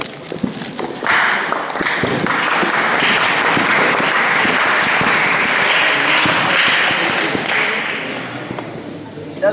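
Crowd applause welcoming a guest at the opening ceremony of a taluka-level school wrestling tournament in Wai, sustained steady clapping with sharp individual claps and thuds, loud and close.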